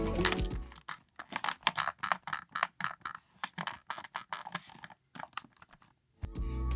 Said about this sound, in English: as far as the creaks are concerned, take a listen for yourself.